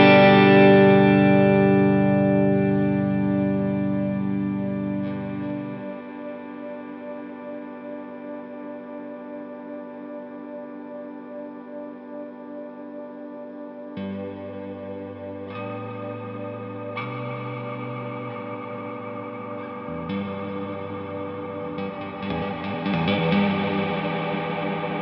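Guitar played through a NUX Atlantic delay and reverb pedal, a long ambient reverb wash held and sustained while new chords are layered on top, swelling and shifting with no talking.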